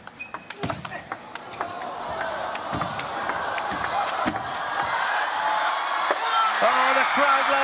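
At the WTT Singapore Smash 2023 men's singles table tennis final, rapid ball pings and paddle hits give way to a swelling roar of crowd cheering and applause in a large arena, rising louder toward the end.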